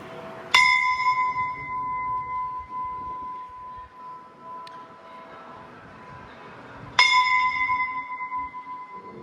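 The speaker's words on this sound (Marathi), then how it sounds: "सगळ्यात पहिल्यांदा आपण घंटा वाजवूया." A metal bell at the Bhakti Shakti temple in Sangamner struck twice, each clear ringing clang hanging on and slowly fading, with a quiet pause between strikes.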